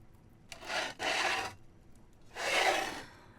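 A hand plane shaves the bark side of a wooden cane shaft in three close, rasping strokes, two quick ones back to back and a longer one after a pause, each a dry scraping sweep with quiet between.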